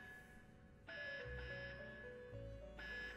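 An electronic alarm in Persona 5 Royal rings in steady tonal bursts, a bright repeating beep pattern that starts after a short quiet moment and keeps going, loud and alone with no talking.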